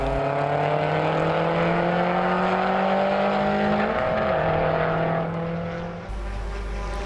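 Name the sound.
Legacy race car driving off track at Hampton Downs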